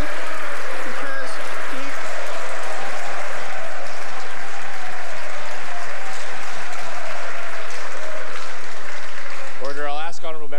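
Members of the House of Commons applaud loudly in a sustained burst of clapping, with a voice breaking in near the end.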